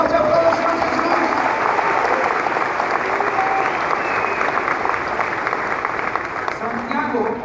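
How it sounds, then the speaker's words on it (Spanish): A church congregation gives sustained, dense applause for Jesus, a steady wash of many hands clapping that fills the room without pause. "dê um forte aplauso ao Senhor Jesus."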